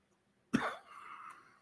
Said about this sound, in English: Excuse me a second. I got a cough.